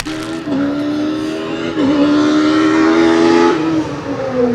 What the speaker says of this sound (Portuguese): Estão a ver os carros a passar